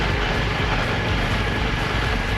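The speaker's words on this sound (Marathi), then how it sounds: "विमान उठलेला आहे इथं" Airplane engines roaring during takeoff heard from inside the cabin, a loud, steady broadband rumble and whoosh that holds evenly throughout, with no voices.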